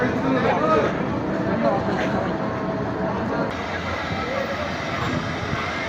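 A passenger train on the Mongla–Benapole line arrives at Mongla with a loud, steady rumble and clatter that holds throughout, voices faintly audible beneath it.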